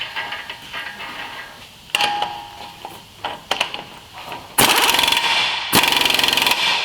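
A new axle nut on a 2013-2018 Honda Accord is tightened with a rattling impact wrench, heard as short bursts early on and then two longer, loud hammering runs near the end.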